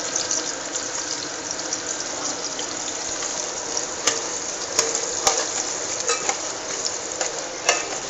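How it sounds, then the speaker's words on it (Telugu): Dried fish (nethallu) frying in hot oil in a pan, giving a steady, close, continuous sizzle with scattered sharp pops and crackles throughout. "మెత్తలను ఆయిల్లో ఫ్రై చేస్తున్నాను అన్నమాట"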